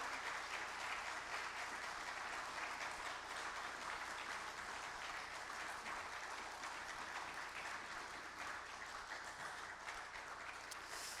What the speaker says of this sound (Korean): 우리 청년들 들어가실 때 큰 박수로 위로해 주시고 격려해 주시면